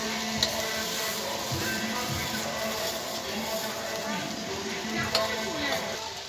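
Washed Gobindobhog rice and fried moong dal tipped into a pot for khichuri, bringing soft rattling, stirring scrapes and a light sizzle close by, with a couple of sharp clinks.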